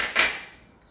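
A single bright metallic clink of spoons against a bowl while making dough, ringing briefly and fading away quietly.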